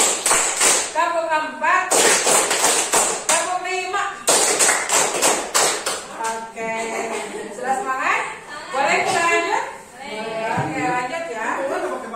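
Indonesian classroom clapping pattern led by a teacher, short bursts of sharp group claps in counted sets alternating with spoken and chanted call-and-response voices.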